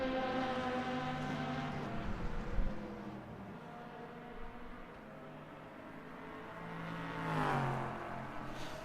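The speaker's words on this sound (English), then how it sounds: "So this is an LMP2" LMP2 prototype race car engine in the rFactor2 racing simulator, a sustained engine drone with shifting harmonic pitch that drops and then rises again as revs climb near the end, with no talking.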